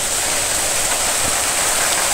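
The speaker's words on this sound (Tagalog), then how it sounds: "nagsimula na talagang simula na yung ulan" Rain begins falling on a mountain trail near Mount Banwag, a loud, dense, uniform rushing hiss without voices.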